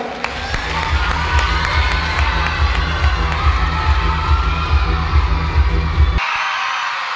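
A large crowd cheers and shouts at a public event in a loud, sustained roar with a rhythmic thumping beneath it, stopping abruptly near the end.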